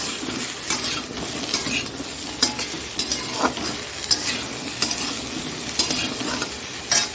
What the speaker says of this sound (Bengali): একটা পেঁয়াজ দিয়ে দিলাম হ্যাঁ পেঁয়াজটা দিয়ে দিলাম